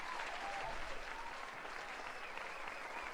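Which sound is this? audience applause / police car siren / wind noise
audience applause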